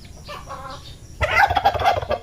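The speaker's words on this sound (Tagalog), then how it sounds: "Napaka-amo to na alimukon mga lodi." A tame pet alimukon dove calls close by in short bursts, with a soft opening call that swells into a louder, throaty run of notes and no talk over it.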